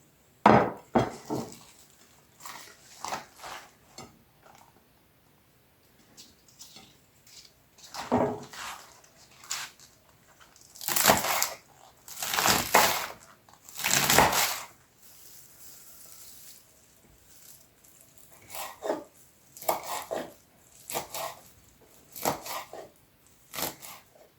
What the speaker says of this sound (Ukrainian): Тут у мене зелень цибулі, петрушки, кропу і чеснику. Все це ми нарізаємо дрібно.